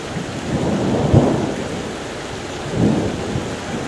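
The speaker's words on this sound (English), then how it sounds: "really a very strong thunderstorm" A strong Florida thunderstorm brings steady rain with two deep rolling thunder rumbles, the first a sharp nearby crack, the second a softer swell near the end.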